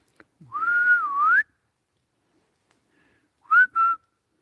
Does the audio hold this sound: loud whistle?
yes